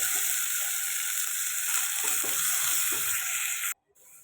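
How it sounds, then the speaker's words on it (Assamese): Ground spice paste frying in oil in a pan, a continuous bright sizzle with a few soft scraping stirs, ending abruptly near the close. "পিচি লৈ মই এতিয়া খুব ধুনীয়াকৈ এইখিনি ভাজিম"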